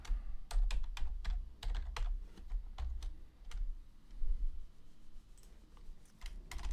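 VBA code is typed on a computer keyboard, with quick bursts of crisp key clicks and brief pauses between words, close and alone over a low background hum.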